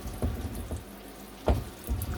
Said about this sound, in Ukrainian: Вмикаємо і пішла вода.